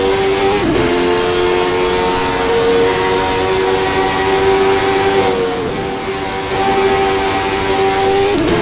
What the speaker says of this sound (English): Nancy dropping a gear through Cops as well.